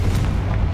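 Loud, deep booming blast from a fire-and-explosion spell cast in Hogwarts Legacy, a brief heavy thump with rumbling low end and no voices.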